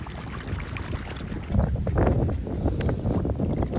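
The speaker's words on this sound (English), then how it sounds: "It's way too windy." Strong wind buffets the microphone beside the Mississippi River in Minneapolis, a loud rumbling roar that surges stronger midway and stays gusty throughout.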